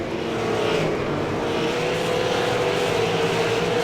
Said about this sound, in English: And Matt Rolfe, excellent job passing on the outside